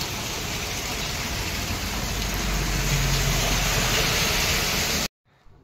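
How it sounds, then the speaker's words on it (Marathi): Heavy rain falls outside near Ozar Phata, a loud steady hiss of drops for about five seconds before cutting off abruptly to near silence. "बाहेर खूप पाऊस चालू आहे."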